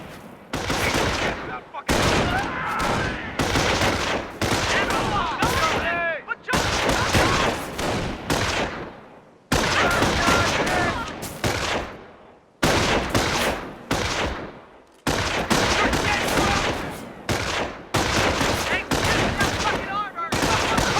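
Gunfire in the World War II strategy game Company of Heroes, dense bursts of rifle and machine-gun fire coming in repeated volleys with short gaps, loud and close, with game voices calling out over the shooting.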